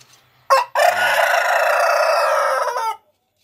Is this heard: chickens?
yes